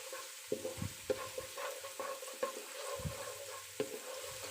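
Garlic frying golden in a pan for chicken fried rice, a steady sizzle broken by repeated close scraping strokes of a spoon stirring, with no voices.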